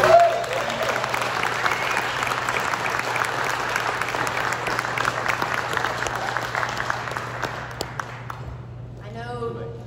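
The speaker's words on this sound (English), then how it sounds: "One more round of applause." A room of local Democrats gives a political speaker a closing round of applause, loud dense clapping that holds steady and then fades toward the end as a voice begins speaking.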